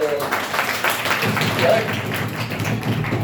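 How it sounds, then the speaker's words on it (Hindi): Students clap together in a classroom during a polity lecture, a dense patter of hand claps running throughout with voices mixed in. "चलो क्लैपिंग करो"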